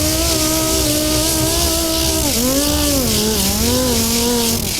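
A sander whines steadily while smoothing bondo on a 1968 Camaro quarter panel, its pitch dipping and recovering as it is rolled over the panel's crown. It is loud and close, with no talking.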